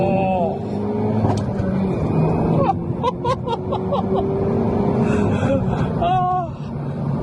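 Renault Megane RS Trophy-R accelerating hard uphill in second gear from about 30 mph, engine note rising steadily with crackles and pops, loud and close, with a person talking over it.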